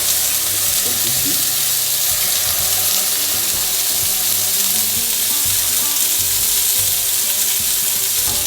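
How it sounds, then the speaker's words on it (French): White wine poured into risotto rice in a hot pan for an asparagus and chicken risotto, giving a loud, steady, close sizzle that hisses evenly throughout. "Là je vais pouvoir mettre le vin blanc dans le riz."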